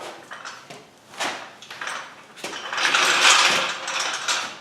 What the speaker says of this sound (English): All I need to do is just tighten down some of those bolts that I just put in